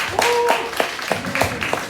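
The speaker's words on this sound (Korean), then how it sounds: "박수 한번 주세요." A group claps in short, evenly spaced bursts of about six beats, close and moderately loud, after a quiz during a middle school youth worship service, with faint voice tones underneath.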